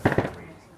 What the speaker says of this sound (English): They're my fireworks.